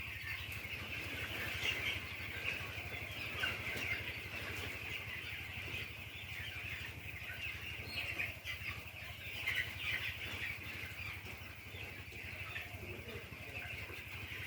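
Broiler chickens on a poultry farm cluck and chirp steadily in a continuous flock chorus, with a constant low hum beneath them and no clear speech.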